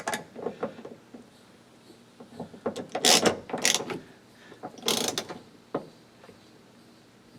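Screws are driven into a door on a 2002 Ford F250, heard as scattered close ratcheting clicks and short mechanical bursts, with quiet gaps between them and no voices.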